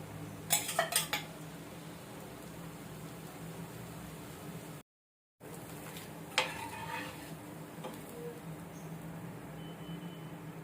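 Beetroot dosas cooking on a pan, with faint steady background hiss broken by a few clinks of metal utensils against the pan near the start and again later.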